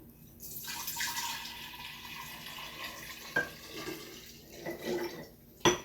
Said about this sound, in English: Now that I have my 1 quart of water, we are going to pour it into our jar.